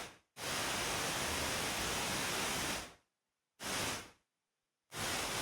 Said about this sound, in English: if I take this gate and expander out, you hear only the white noise